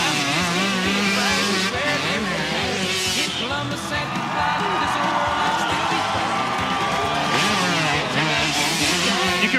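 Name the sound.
freestyle motocross motorcycle engine winding out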